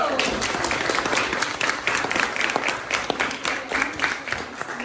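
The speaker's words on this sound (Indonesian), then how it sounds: "Boleh tepuk tangan untuk kelompok Komodo." Classroom applause for a student group during a fifth-grade lesson, a brisk, fairly close patter of many hands clapping steadily throughout, with small crowd murmur mixed in.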